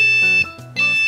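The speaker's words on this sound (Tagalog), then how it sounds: "Meron na tayong buzzer. Nababago yung kanyang tunog. Pag pinindot ko," A DIY adjustable buzzer beeping when pressed, two loud, close, steady electronic tones separated by a short gap, alone without speech.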